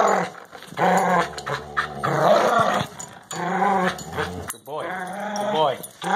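Pit bull dogs growl steadily and close up as they play tug, with rough snarls rising and falling alongside a woman's excited, high-pitched talk and praise.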